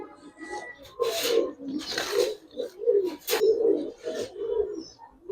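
Giribaz pigeons coo close by in a run of soft, throaty phrases, roughly one every second, with a few faint wing or shuffling rubs between calls.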